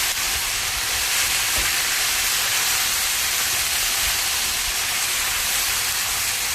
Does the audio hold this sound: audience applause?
no